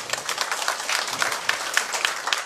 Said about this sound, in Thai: ขอเสียงปรบมือดังๆให้กับทุกคนครับผม